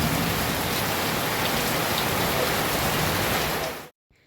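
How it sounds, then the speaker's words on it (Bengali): Very heavy rain pours down in open surroundings, a loud, dense, steady roar of drops that holds evenly and then cuts off abruptly near the end. "বন্ধুরা দেখো কি পরিমাণ বৃষ্টি হচ্ছে, মানে এত জোর বৃষ্টি খুব কমই হয়"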